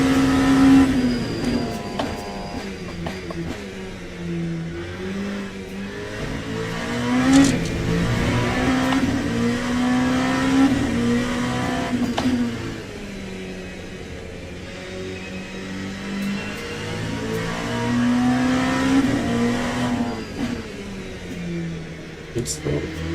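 Race car engine in Le Mans Ultimate holding a steady drone with shifting pitch, rising and falling through gears over a long run, with someone talking over it at times.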